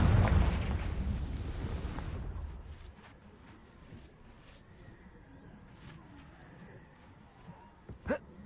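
A Confringo blasting spell explodes in Hogwarts Legacy: a loud, dense burst of roaring blast noise for about two seconds, fading to a low rumble, with a short sharp pop near the end.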